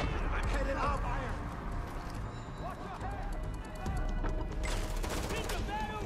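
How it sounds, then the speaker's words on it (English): Shotgun blasts in the video game Far Cry 4, several loud booming shots amid running footsteps and busy combat noise, with someone talking over the action. "I love this shotgun, man."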